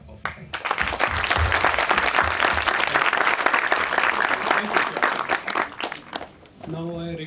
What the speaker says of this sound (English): please join me by complimenting our speakers by a big clap of hands